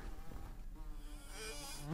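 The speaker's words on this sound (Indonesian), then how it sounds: "Kenapa banyak lalat ini tempat sampah apa ya?" Flies swarm around trash in a horror video game, giving off a continuous close buzzing drone that holds steady for a couple of seconds without any speech.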